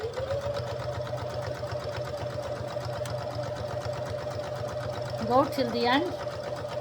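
A sewing machine runs steadily, stitching collar stand pieces together with a continuous mechanical whir and rhythmic needle chatter. A person speaks briefly near the end over the motor.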